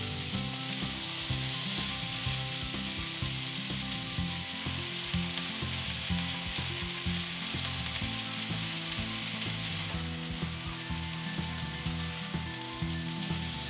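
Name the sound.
sliced onions frying in okra potato spice mix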